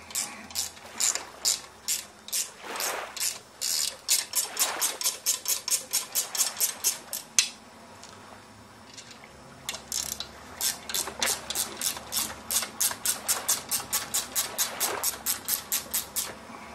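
A ratchet wrench backs bolts out of an Evinrude Johnson outboard lower unit gear case, with fast rhythmic clicking bursts that pause briefly midway, then resume, loud and close with no talk.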